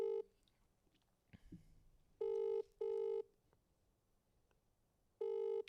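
Outgoing phone call ringback tone: three loud, steady electronic rings spaced a few seconds apart, with quiet room noise and a brief rustle between them.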